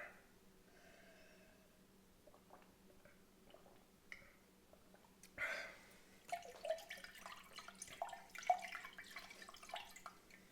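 Cold drinking water is poured, starting as a faint splash midway and continuing as an uneven trickle and patter, quiet and close, with no voices.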